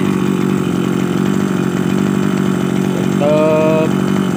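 A grass cutter engine running at idle, a steady close buzzing drone that holds even throughout with a short, higher whining flutter near the end, and no talking.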